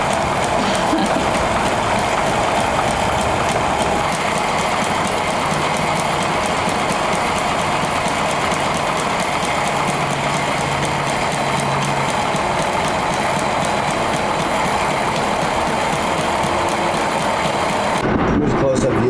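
A Sailrite sewing machine stitches a spinnaker sail, its motor running in a steady rapid whir with regular ticking before it stops just before the end.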